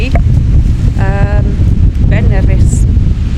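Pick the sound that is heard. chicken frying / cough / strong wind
strong wind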